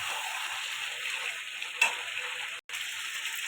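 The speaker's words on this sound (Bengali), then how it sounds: "আলুটা দিয়ে দিলাম। এবার ভালো করে কষাতে থাকবে এটা।" Chicken and potatoes sautéing in a pan give a steady, close sizzle with a brief stirring scrape, then a sudden short dropout near the end, and no voices.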